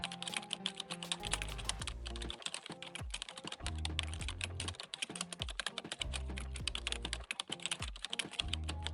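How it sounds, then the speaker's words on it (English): Rapid, steady keystrokes on a computer keyboard as a trading indicator name is typed in and entered. The clicks are close and continuous over a low, droning background. "type in Telsanti tree and hit enter"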